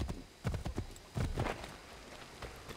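Horse hooves clip-clopping in the video game Assassin's Creed 3, a few muffled thuds in uneven pairs over a low steady background, moderately close, with no talk.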